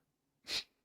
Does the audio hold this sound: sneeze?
yes